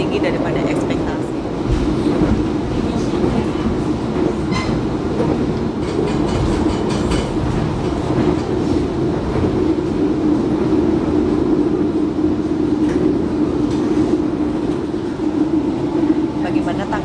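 Panoramic passenger train with glass-walled carriages rolling along rails in Indonesia, a steady loud rumble with rhythmic clickety-clack of wheels over track joints throughout, with people talking over it at times.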